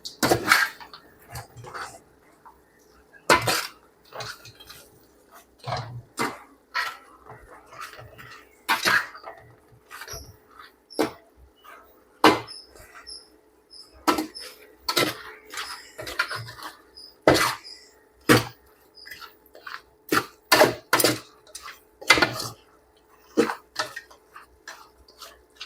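A spoon scraping and clanking in a pot while mutton gravy ingredients and spices are stirred together, with irregular sharp metallic taps and scrapes spread through the clip over a quiet background.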